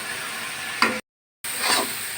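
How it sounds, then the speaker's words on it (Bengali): Flat beans crackle and hiss in a hot pan as they stir-fry, stirred now and then, with a brief gap of silence partway through. "আমি আর একটু নাড়াচাড়া করে ভাজি করে নেবো দুই থেকে তিন মিনিট"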